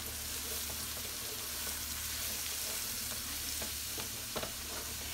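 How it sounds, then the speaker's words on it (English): Flour-coated onions sizzle in a frying pan while being stirred, a dense close hiss with soft scraping strokes and a brief clink near the end, no voices. "you just wanna sprinkle it over your onions and get it coated with the flour and start stirring it along the way"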